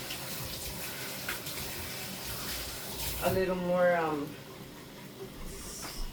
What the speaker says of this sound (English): I'm also going to add a half cup of water